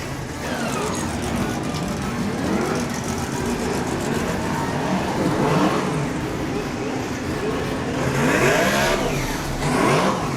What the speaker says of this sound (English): Testing out the traction, 119B, Wanganui car, Zach Harris.